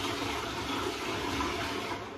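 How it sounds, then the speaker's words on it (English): A toilet flushing with a loud, steady rush of water that fills the whole stretch without pause. No one speaks. "I didn't even flush the toilet."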